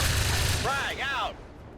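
Frag grenade blast in the video game XCOM Long War of the Chosen: a loud, dense burst of explosion noise, followed by whooshing, warbling tonal debris effects that fade out.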